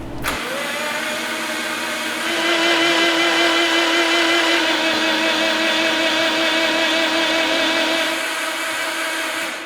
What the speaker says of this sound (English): we'll leave the plugs out of the car and crank it over so it doesn't build compression